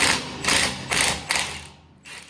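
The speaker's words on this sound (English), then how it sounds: "So let's get the pinion nut off." The pinion nut on a GM 12-bolt rear end comes loose under a tool in a few close, loud mechanical bursts of ratcheting clatter, fading toward a quieter final burst.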